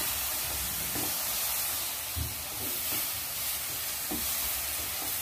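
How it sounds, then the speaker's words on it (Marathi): Milk poured bit by bit into roasted mawa for Mathura pedha, sizzling and hissing steadily in the pan, with a few soft thuds of stirring underneath, close and continuous. "आता ना ह्याच्यात मी थोडं थोडं करून असं दूध घालणार आहे।"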